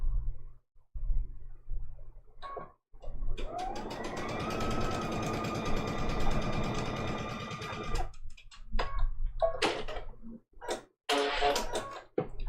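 A sewing machine back stitches a quilt block, with quiet clicks and handling noise first, then a few seconds of close, steady whirring stitches, then more clicks and rustling.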